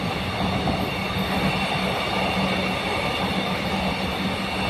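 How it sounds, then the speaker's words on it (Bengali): A freight train rumbles past at night with strong wind, giving a loud, continuous roar of wheels and wagons and a faint rhythmic clatter that lasts throughout. "এটাও মালগাড়ি বেরিয়ে গেল,"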